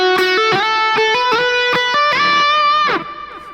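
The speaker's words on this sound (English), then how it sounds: "We're going to hammer on and then slide into that note." An electric guitar picks a note, hammers on and slides up into a held note that rings briefly before fading, a short solo phrase heard clearly with no talking.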